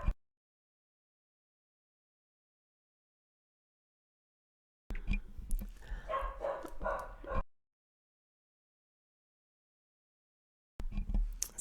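Puppy barking and whimpering indoors in a brief close burst of yips, surrounded by long stretches of silence, with another short burst at the end.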